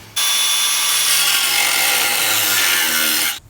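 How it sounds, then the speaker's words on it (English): A power saw grinds loudly through metal while fitting a full-size Integra radiator into a Honda Civic EG, in one continuous harsh, high-pitched cut that starts and stops abruptly. "Just a little update using this saw right here."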